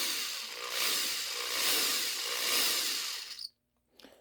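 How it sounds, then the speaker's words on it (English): A cheap corded drill runs continuously with a loud, buzzing motor whine and slight vibration, surging a few times before cutting off abruptly, then a short final burst. "most people may assume that this drill is stalling out and trying to rotate"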